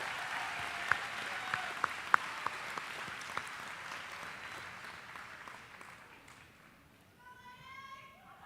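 Applause from a graduation crowd at a high school ceremony, a dense steady wash of clapping with a few sharp nearer claps early on, fading over the last seconds as a whistle-like tone rises near the end.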